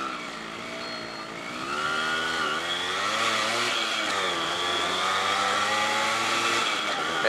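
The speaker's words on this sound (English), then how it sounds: "I think the engine's getting a bit warmed up now" A Yamaha RX100 two-stroke motorcycle engine runs steadily in Pokhara, Nepal, warming up with a buzzing, revving drone whose pitch rises and falls under a faint voice.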